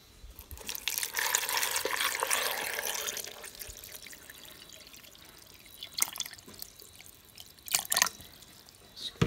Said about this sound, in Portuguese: Aí vou acrescentar aqui a água.